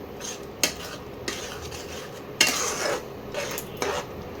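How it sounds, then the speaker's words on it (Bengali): Spice masala with Kashmiri chili powder being stirred and fried in a pan for mutton curry, a low sizzle under repeated metal spatula scrapes and clanks against the pan. "এইবারে ভালো করে মশলাটাকে কষিয়ে নিতে হবে।"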